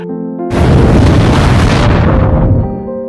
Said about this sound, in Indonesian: Mereka mencoba menghancurkan pemanas itu yang membuat alat itu meledak.